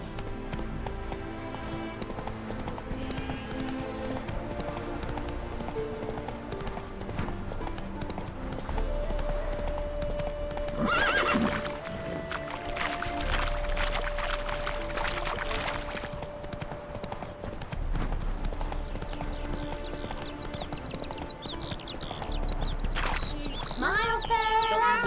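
A horse gallops in the video game The Witcher 3: The Wild Hunt, with rhythmic hoofbeats running steadily under game music and ambience, a whinny surfacing along the way and a voice speaking briefly.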